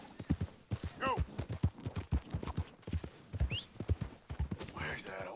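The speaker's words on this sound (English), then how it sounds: "Where's that horse got to?" Horse hooves clip-clopping in Red Dead Redemption 2, a brisk steady rhythm of hoofbeats with a couple of whinnies and snorts, close and prominent, with faint voices in the background.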